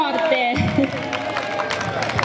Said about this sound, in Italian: fare subito un applauso al nostro Emanuele